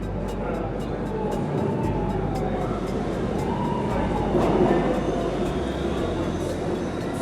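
A New York subway train rumbling steadily and loudly throughout, a dense low roar with a faint high squeal riding over it and no break in the noise.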